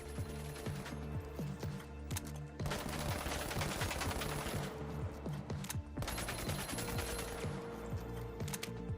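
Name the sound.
FCAR and AKM rifle gunfire in THE FINALS video game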